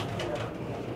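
A brief burst of low, throaty pigeon cooing at a pigeon market in Peshawar, close and steady, with faint background rustle.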